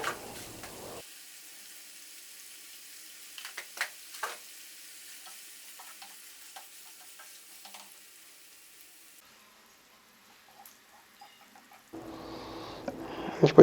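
Cinnamon bark and two or three cloves fry in hot oil for a chicken fry. A faint, steady sizzle runs throughout, with a few sharp stirring clicks and a louder burst of sizzling at the start and end.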